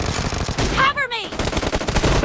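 Automatic gunfire from a BGMI team deathmatch rattles in fast bursts, with a short in-game voice cutting through the shooting.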